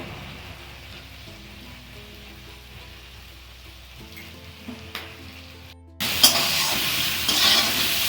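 Mutton with black pepper and salt is stirred in a hot pan. A quiet hum gives way to a sudden loud sizzle and crackle that keeps going near the end, heard up close with no voices.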